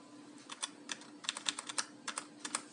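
Typing on a Trust GXT 830 keyboard: a steady series of fairly quiet key clicks in small irregular bursts, close up and with no talking.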